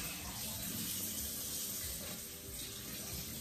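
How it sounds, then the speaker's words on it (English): Steady running tap water pours over dry black beans in a sink, a continuous close splashing hiss with no pauses. "I just go in and rinse them."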